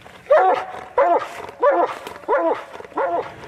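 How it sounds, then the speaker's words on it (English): Hound dogs bark at a raccoon treed on a nighttime hunt, five loud, close barks spaced about every 0.7 seconds in a regular rhythm. "we were trying to get Marley to bark tree, and she got pretty excited"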